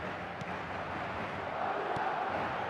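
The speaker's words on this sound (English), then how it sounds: "The crowd are calling for this to be put to bed." A football stadium crowd calls out and roars in a steady, dense wash of many voices, loud and continuous throughout, with a slight swell toward the end.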